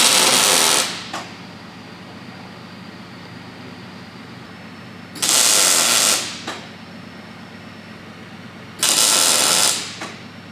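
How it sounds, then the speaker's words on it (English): Welder tack-welding a part onto a minibike frame: three separate bursts of loud hissing, crackling arc noise, each lasting about a second or more, separated by quiet pauses with low background hum. "tack it to the frame. Doing that now? Yep, we'll tack it."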